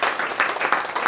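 A church congregation claps and cheers in praise, a quick burst of steady, fairly close applause with scattered voices lifting through it.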